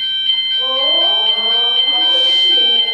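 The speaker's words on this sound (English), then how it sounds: "Okay, I think we have a fire alarm going off." A fire alarm sounds indoors as a loud, continuous high-pitched electronic tone that never lets up, while people talk over it.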